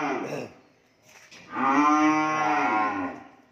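Cattle at a cattle farm in Mỏ Cày Bắc give a long, loud, close moo after a shorter low call, the sustained bellow holding steady before tapering off.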